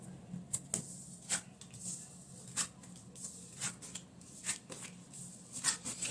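Lenormand fortune-telling cards laid out one at a time on a table, giving a series of light, crisp flicks and taps at an irregular pace, quiet and close.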